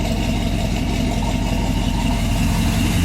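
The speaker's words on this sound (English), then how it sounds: "You don't idle too good when it's cold." A cold 1966 Chevy truck engine idles roughly, a loud, close, low, continuous rumble with an uneven pulsing beat.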